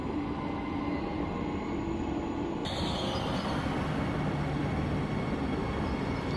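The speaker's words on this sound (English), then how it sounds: "This train that you can see departing on the other platform is the same Regio 2N rolling stock" A Regio 2N regional train departing a Paris-area platform, a continuous rumble on rails, steady and moderately loud, with a faint tonal whine partway through and no talking.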